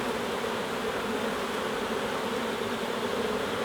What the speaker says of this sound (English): you could easily panic with all these amount of bees